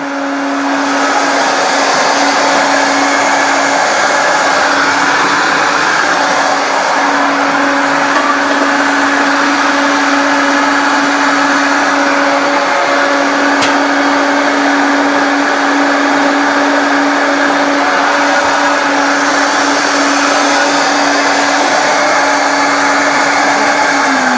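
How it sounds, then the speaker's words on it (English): A Vitamix blender whirs steadily and loudly at high speed for the whole stretch, blending vegetarian food into a smooth mix with an even, unbroken motor roar and no talking. "with the Vitamix, it tends to blend it up fairly quickly for you"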